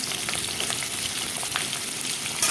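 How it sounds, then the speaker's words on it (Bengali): Potato pieces frying in hot oil in a wok, for a fish curry, give a dense, steady, close sizzle with fine crackling throughout and no voices. "কড়াইতে তেল দিয়ে তেলটা গরম হওয়ার পর আলুগুলো দিয়ে দিলাম"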